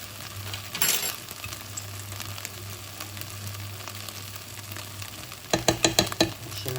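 Beef with plain flour, garlic and mixed herbs frying in a pan, a soft steady sizzle with occasional scraping stirs, then a burst of louder rhythmic stirring near the end.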